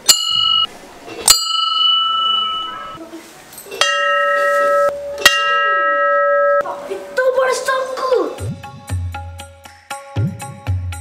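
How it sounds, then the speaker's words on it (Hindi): A metal temple bell rings out several times with clear ringing tones that linger and decay, close by, followed by overlapping chimes and chanting voices. "मैं घंटी बजाऊंगा।"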